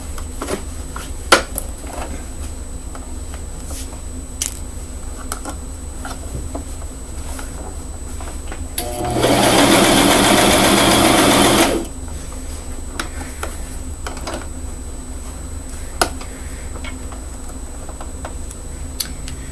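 Sewing machine stitching a pleated pink frock in one continuous loud burst of about three seconds, set among quiet ticks and handling clicks before and after.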